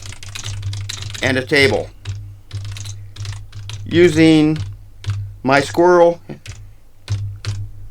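Computer keyboard typing clatters in quick bursts beneath and between a man's close-up talking, with soft key clicks filling the pauses.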